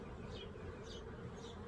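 Honeybees buzz continuously and close by during hive splitting, a dense droning hum with a few individual insects flying past.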